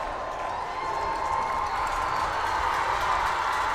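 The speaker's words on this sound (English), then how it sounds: "we can hear this Howell crowd starting to go crazy in support of their Highlanders" A Howell Highlanders football crowd roars and cheers steadily at the end of a game, a dense, continuous wash of voices and applause that holds level throughout.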